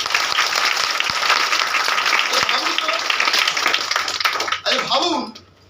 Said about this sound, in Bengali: একটা জোরদার হাততালি দিই